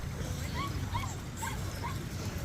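A dog whimpers at a dog beach in Michigan in short, high, thin whines, several brief cries spaced apart over steady outdoor background noise.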